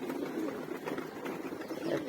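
Soft, continuous low cooing from pigeons, faint and steady with a slight swell near the end, no voices present.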